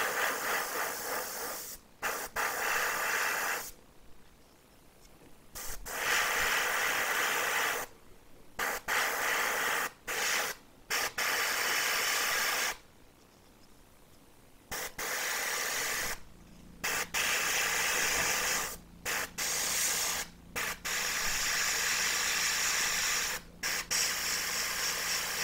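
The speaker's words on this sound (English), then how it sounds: "I'm just going to kind of spray the shadow color from the bottom here." Shadow paint hisses from an airbrush onto the legs of a model kit in repeated bursts of varying length, some several seconds long, separated by brief silent gaps, close and steady.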